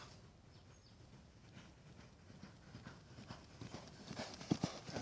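Hooves of a ridden horse clip-clop in a steady walking rhythm, faint and somewhat distant at first, growing slightly clearer and louder toward the end.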